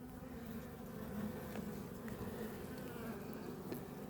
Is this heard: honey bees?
yes